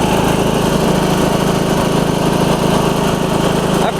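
A re-powered Husqvarna hydrostatic lawn tractor engine runs steadily, close and loud with a constant buzzing drone and no change in pace.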